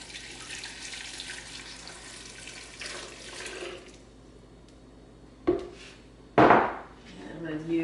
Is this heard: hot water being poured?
yes